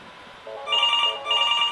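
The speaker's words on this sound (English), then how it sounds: "we got a couple different devices ringing here." Several devices on an 8x8 cloud phone system ring at once, a computer, a desk phone and a smartphone, in repeating electronic ring bursts that are close and clear with no talk.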